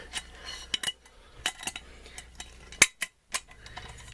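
A stainless steel skillet lid being set on and locked into place, sparse metallic clinks and clacks with a few sharp bright hits and a louder clank near the end, close by with quiet gaps between.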